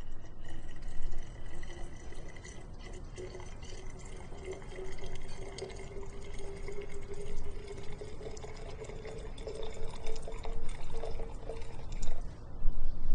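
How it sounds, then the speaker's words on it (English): Deionized water is poured onto solid lead(II) iodide in a laboratory flask, a steady low trickling and splashing pour with faint background hum, fairly quiet and continuous. "Deionized water is then added to the pure solid lead-2 iodide."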